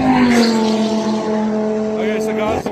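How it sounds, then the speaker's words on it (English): A loud race car engine roars past on the Kyalami race track during a motoring festival, with a steady, droning tone that slowly drops in pitch, followed by a brief higher whine near the end. "Here's some of the cars you're gonna check coming past. They sound amazing."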